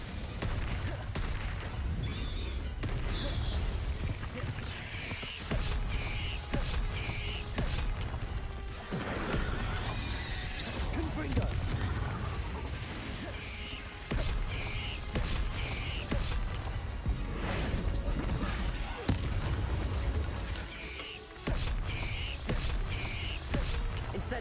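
Confringo and Incendio spell blasts in Hogwarts Legacy, a series of whooshing bursts and crashing impacts amid battle noise, fairly faint and spread over a long stretch.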